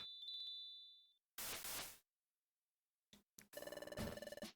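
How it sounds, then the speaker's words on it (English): The friendship bell rings in the Pokemon Mystery Dungeon: Explorers of Sky video game as a chiming tone, followed by a burst of noise and then a string of bright, rhythmic ringing notes with game sound effects, with no talking. "I'll just ring the friendship bell."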